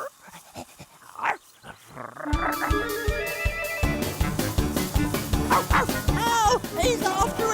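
A cartoon dog from the animated series Noddy in Toyland gives a few quick, yappy barks at the start before bright background music swells and carries the rest of the moment.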